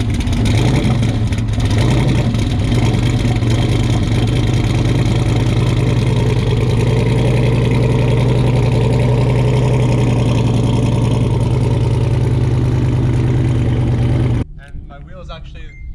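A twin-turbo LS engine idles loudly with a lumpy, rough note and rises in sharp revs, running steadily and close before cutting off abruptly near the end, leaving quieter background noise.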